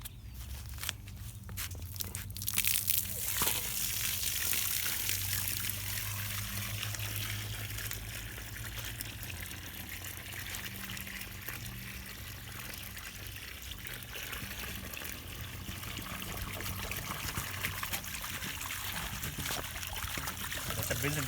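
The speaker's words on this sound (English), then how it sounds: "There's some resin coming out." Water and old water softener resin beads drain steadily out of an emptied softener tank, a continuous trickling pour with close, rushing hiss that stays fairly even throughout, a few louder bursts near the start.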